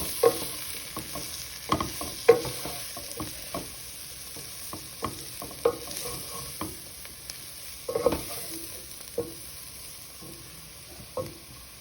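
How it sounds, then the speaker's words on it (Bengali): Cornflour is stirred into a pot for creamy potato soup, with a low background sizzle and irregular spoon scrapes and knocks against the pot recurring every second or so. "কর্নফ্লাওয়ার দিয়ে নেড়ে দিচ্ছি"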